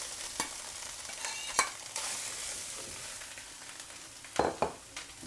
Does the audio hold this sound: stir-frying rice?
yes